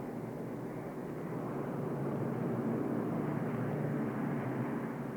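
Obsolete Soviet military planes of 1941 drone steadily overhead above the Kremlin, a continuous broad engine roar that stays even and moderately loud throughout.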